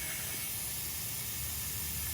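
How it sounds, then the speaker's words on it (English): An air compressor hose inflating a car tire hisses steadily and loudly at close range, a continuous rush of air without a break for the whole short stretch. "that's the amount of pressure that's going through here to inflate the tire"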